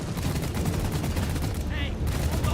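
Sustained rapid gunfire from the GK2 assault rifle in Deep Rock Galactic, a dense continuous burst running the full length at steady loudness, with a brief higher-pitched game effect near the end.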